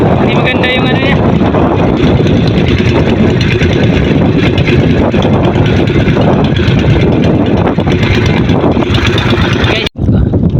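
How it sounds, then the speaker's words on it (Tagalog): A fishing boat's engine in poor condition runs loud and continuous, rumbling roughly throughout with strong wind buffeting the microphone, while people talk over it. "Medyo hindi kondisyon yung makina."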